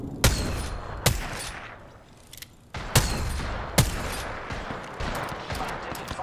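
Apex Legends gunfire, including a 30-30 Repeater, several loud sharp shots spaced about a second apart, with rattling impacts and echo between them, close and without talk.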